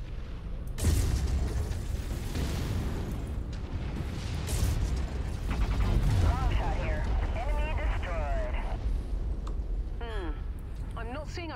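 MechWarrior 5 combat with an enemy vehicle destroyed: rolling explosions and heavy rumbling booms fill the scene continuously at moderate level, with bursts of weapon fire and radio-style voices speaking over the blasts.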